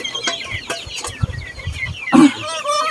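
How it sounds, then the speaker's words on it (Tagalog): Turkey and other poultry calls ring out close by in a backyard, with a burst of turkey gobbling near the end over scattered clucks. "Pasensya nyo na yung pabo natin."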